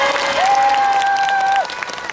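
An audience at a children's choir performance at an outdoor festival on Children's Day claps and cheers in a broad, continuous wash of applause, with a whistle-like tone sustained over it before the clapping thins out.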